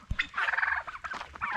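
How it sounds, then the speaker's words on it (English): Turkeys in a pen gobbling, a short burst of loud, close, warbling calls with a second gobble following quickly. "We just cannot keep the turkeys in."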